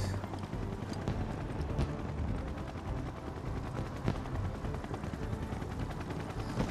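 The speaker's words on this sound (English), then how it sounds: "Never-ending fireworks." Fireworks at the Gold Saucer in the Final Fantasy VII Rebirth video game, a dense, continuous stream of crackling and popping bursts, loud and unbroken throughout.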